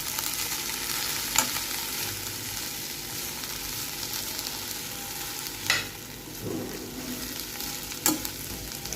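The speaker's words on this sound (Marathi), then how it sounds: "आता या भेंडीला आपल्याला तेलामध्ये चांगलं वरी खाली करून घ्यायचं आहे, म्हणजे आपल्याला भेंडीला भाजायची आहे." Okra stir-fried in oil in a kadhai over a low flame gives a steady soft sizzle, with occasional louder scrapes and clinks of the spatula stirring, no voices.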